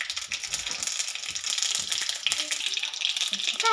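Cumin seeds frying in hot oil in a kadhai for a Maharashtrian dish, a steady, close sizzle with fine crackling that continues throughout.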